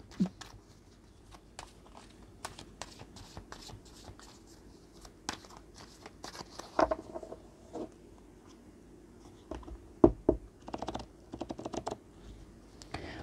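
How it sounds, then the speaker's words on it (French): Tarot cards being shuffled by hand, a series of soft close riffling and tapping bursts, quiet and irregular, with no talk over them. "Je mélange bien hein, pour pas qu'on ait les mêmes cartes."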